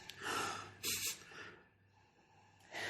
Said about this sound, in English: I gotta sniff my arm and go back in.